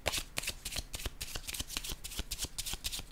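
Cards are shuffled in quick succession during a card reading, a dense, continuous riffling flutter heard close up and fairly quiet, with no one talking.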